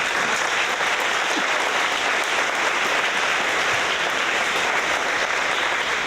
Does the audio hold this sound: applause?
yes